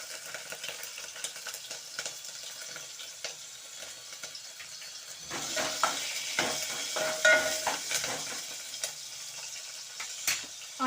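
Onions and chillies frying in hot oil in a darkened bowl for a mushroom curry, a continuous soft sizzle with scraping stir strokes that grow busier and louder partway through, with no talking.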